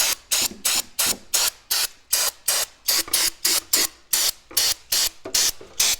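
Repeated short bursts of aerosol carburetor cleaner sprayed onto a carburetor around the choke and bowl, about seventeen hissing blasts in a steady rhythm, close and loud with no talking.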